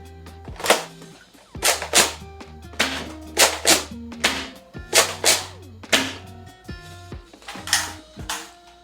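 A Zuru X-Shot Pro Fury X toy blaster fires foam rounds in quick bursts of sharp, snapping shots over a humming motor that spins up and winds down between volleys, close and loud.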